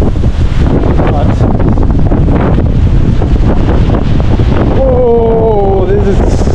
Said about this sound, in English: oh, this is too much wind.